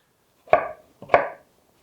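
Two sharp knife chops through potatoes on a cutting board, spaced about half a second apart, close and clear with silence around them.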